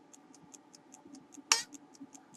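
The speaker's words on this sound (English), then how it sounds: "You can hear it ticking there away." Vintage radium alarm clock ticking quietly and evenly at close range, a steady run of light ticks broken midway by one sharp louder click.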